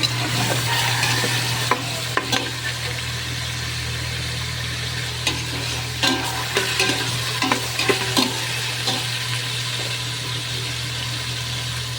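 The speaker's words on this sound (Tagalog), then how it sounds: "So, haluin din natin itong noodles ng spaghetti" Spaghetti noodles stirred in a pan over a low, constant hum, with scattered clinks and scraping strokes of a utensil across the pan and a soft sizzle beneath; no voices.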